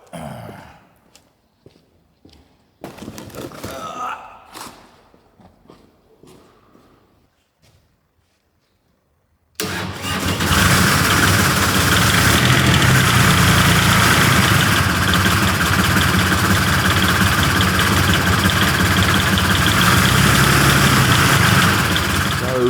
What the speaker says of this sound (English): this is Billy's wood chipper